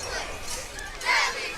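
A crowd murmurs and chatters in the stands at a Thursday night middle school football game, a dense, steady wash of distant voices with a slight swell near the end.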